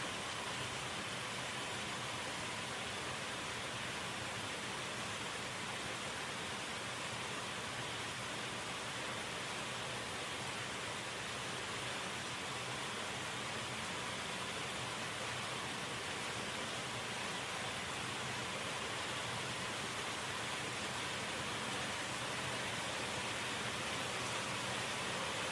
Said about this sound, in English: Alright. Raining.